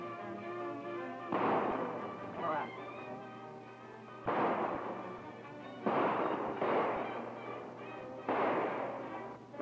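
Gunfire in a 1935 crime film: four loud, sharp bursts spaced a second or two apart over a steady background hum.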